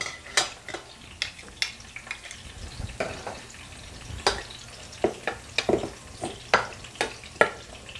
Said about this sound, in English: everything is good, starting to fry up. So I'm gonna put the saltfish in there.